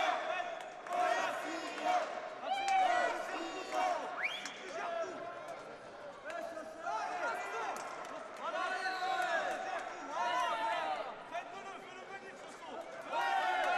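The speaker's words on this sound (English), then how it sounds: "Got a lot of backing in the crowd behind me." Spectators at a boxing semifinal bout cheer and shout in support of a fighter, with loud, continuous crowd noise rising and falling over roughly fourteen seconds.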